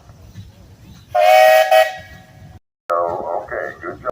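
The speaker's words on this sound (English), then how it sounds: "So, hey guys, you got a whistle." A 1917 20-horsepower Advance Rumley steam traction engine at a parade lets out a loud whistle blast of about a second and a half, then a second shorter, lower toot after a brief pause, with crowd murmur beneath.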